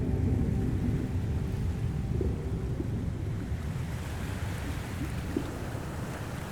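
Ocean waves and wind wash steadily around a boat off the Goa coast, a broad, constant roar with gusty buffeting on the microphone and a brief faint tone partway through.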